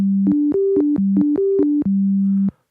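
A pure sine tone from a Studiologic Sledge synthesizer oscillator steps through a short melodic pattern of clean pitches, each note clicking on and off, ending on a held low note.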